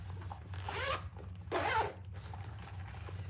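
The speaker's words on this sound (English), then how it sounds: "And there's a zipper pocket on the back." A zipper on the back pocket of a sewn bag is pulled in two quick, close rasping runs, with a faint steady hum underneath.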